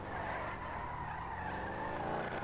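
A car skids while fleeing police in the GTA 5 video game: a steady, sustained tire screech over a revving engine, fairly quiet and with no talk.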